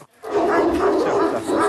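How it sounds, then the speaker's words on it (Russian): Alabai dogs, a Central Asian shepherd breed, bark loudly and close in Kyrgyzstan, a dense sustained burst of barking after a brief moment of quiet. "собаки породы Алабай"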